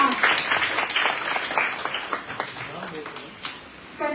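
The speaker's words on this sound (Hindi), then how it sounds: "जोरदार तालियों से इनका स्वागत करें।" An audience at a Hindi poetry recitation competition gives applause to welcome a contestant placed fourth, a steady patter of clapping heard under a voice that talks over it.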